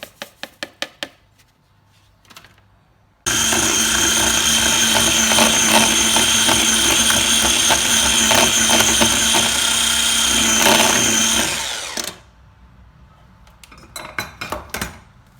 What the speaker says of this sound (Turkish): Ve krem şantimi bu şekilde köpürtüyorum.